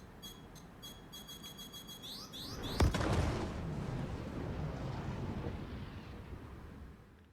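Two size 3 missiles strike a Sabre ship in a space combat game: a rapid run of high electronic beeps, then a heavy booming impact that fades into a long rumbling roar.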